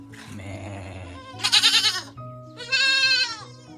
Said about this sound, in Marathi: इथे बोकरे पण मस्त आवाज करतात